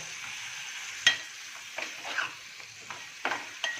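Dried salted fish with half a spoon of turmeric is stirred in a hot pan, giving a faint, steady sizzle broken by soft, irregular scraping strokes of the spatula, close by.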